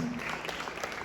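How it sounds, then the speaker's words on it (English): Brief applause greets a guest at a golf interaction event, a short, fairly quiet patter of clapping from a small audience. "A big round of applause."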